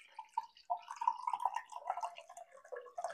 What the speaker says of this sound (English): instead I'll opt for just pouring it in a glass